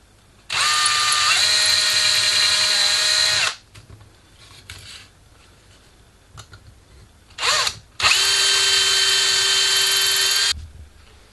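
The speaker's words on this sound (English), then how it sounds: "These were then drilled through the right hand side using a long series drill." Power drill with a long series bit boring through a model cannon frame, two long loud high whining bursts separated by quieter handling noises and a short spin-up, close and without talk.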